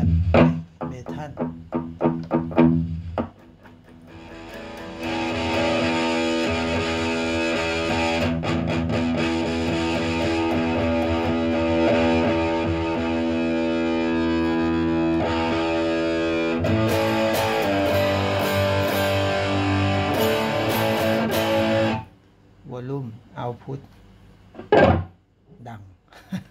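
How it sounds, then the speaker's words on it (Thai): A heavily distorted electric guitar through a Boss ME-80 multi-effects unit's metal distortion setting rings out in sustained, crunchy metal tones for several seconds, with someone speaking briefly before and after. "เสียงแตกแบบเมทัล"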